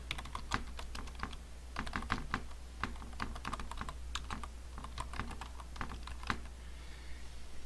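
Steady typing on a computer keyboard, a rapid run of clicking keystrokes in irregular bursts with short pauses, close and clear, no talking.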